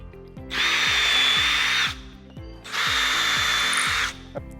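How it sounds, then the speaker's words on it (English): Two loud bursts of a power drill boring holes into a wooden door for hardware, each a steady buzzing whine lasting over a second, separated by a brief lull. "I'm drilling all of these holes on a single door"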